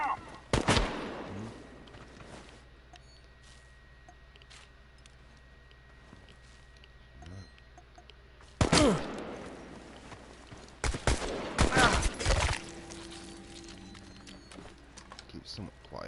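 Gunfire in the video game Chernobylite: several sharp shots with ringing tails come in scattered bursts among long quiet gaps, with voices speaking between them.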